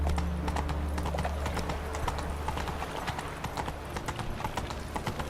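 Hooves of Roach, Geralt's horse in The Witcher 3, clip-clop steadily at a riding pace through Novigrad streets at night, a continuous rhythmic clatter over low ambient game music and hum.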